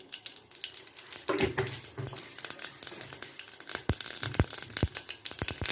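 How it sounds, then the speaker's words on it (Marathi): Mustard seeds crackle and pop in hot oil during tempering, sharp irregular snaps coming quickly one after another over a steady sizzle, with no voices. "मोहरी तडतडली आहे"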